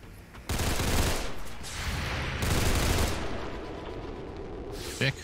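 Gunfire in the XCOM 2 video game: a long, loud, roaring burst of automatic weapon fire with a sustained rumbling tail, ending in a brief final crack.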